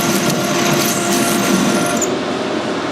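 A metal lathe cuts fine screw threads in aluminium, a loud, continuous whirring and grinding under even, dense noise, close by with no talk.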